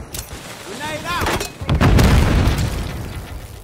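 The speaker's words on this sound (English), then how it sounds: "Grenade out." A grenade blast in the video game Call of Duty Modern Warfare III, a deep booming explosion with a rumbling tail, preceded by brief game chatter and sharp effects, loud and close.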